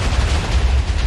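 A Minecraft explosion in the Nether, a continuous loud deep rumbling boom with heavy low-end roar sustained for about a second, no talking.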